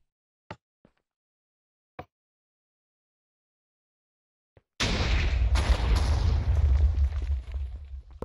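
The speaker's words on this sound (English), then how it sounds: "Nice clean blast, that one, which is good" A blast goes off in the Minecraft video game: a few faint clicks sound over near-silence, then a sudden loud explosion erupts and rumbles on for several seconds before tapering off.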